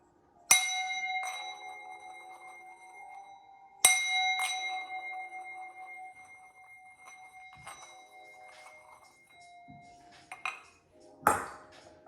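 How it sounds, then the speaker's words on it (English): A metal sound bowl is struck twice, each strike ringing out with long shimmering overtones, followed by lighter taps and clinks near the end. "We're gonna hit the sound bowl, cleanse the energy"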